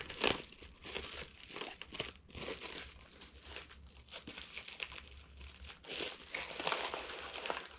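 Taped packaging around a Sigma 30mm f/1.4 Art lens for Sony A mount is pulled open, with continuous close crinkling, crumpling and tearing of wrap and tape.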